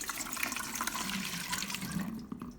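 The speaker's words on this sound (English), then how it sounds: "Add some water." Water splashes and gurgles as it is poured into a large cooking pot holding a steaming tray, a steady close, hissing stream with irregular splashes over about three seconds.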